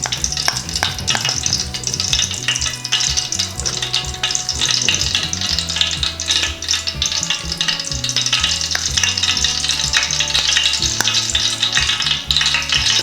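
Oil and ghee sizzle hard in a pan for beef biryani, a loud continuous crackle with frequent stirring scrapes and clinks, heard close and without speech.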